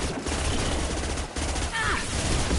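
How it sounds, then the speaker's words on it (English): Sustained gunfire in the video game Mass Effect 2, a dense rattling burst of shots with a brief lull, close and loud beneath combat noise. "Taking heavy fire!"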